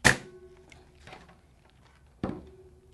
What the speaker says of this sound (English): Grab my staple gun, and we're going to apply it right in the center.